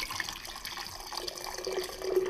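Very hot water pours into a sturdy vase in a steady, continuous splashing stream that rises slightly in pitch as the vessel fills.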